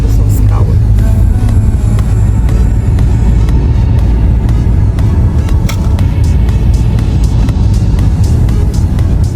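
A car drives along a road past rock formations in Germany, its engine and tyre rumble loud, close and steady throughout, with a voice faintly present under the noise.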